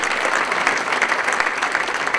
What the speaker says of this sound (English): let's give Michael another round of applause for that